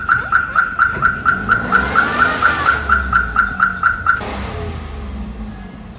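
A stuck car's engine revving as its wheels spin in place, with a loud, regular repeating pulse for about four seconds before it eases off to a low rumble.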